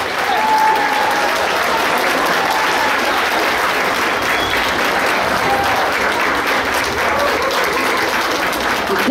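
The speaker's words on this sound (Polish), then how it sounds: "Raz jeszcze wielkie brawa dla choreografa pani Katarzyny Rytowskiego" Thick, sustained applause from a large crowd at a Warsaw high school studniówka ball, honouring the choreographer; many hands clapping at once in an even, unbroken wash at close range.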